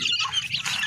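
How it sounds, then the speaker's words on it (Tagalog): Month-old chicks cheep and peep in a shrill, busy chorus while pecking at scattered feed, close and fairly loud over a brief moment. "Susunod natin yung makakulit na mga sisiw mga birds."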